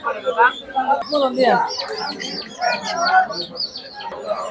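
Poultry and turkey chicks chirp and cheep densely at a busy village market, a steady chorus of high calls close by with some muffled voices in the background.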